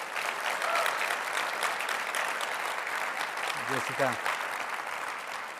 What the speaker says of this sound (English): Let's have a round of applause for Matt Schlapp, Liz Truss, and everybody who pulled it off.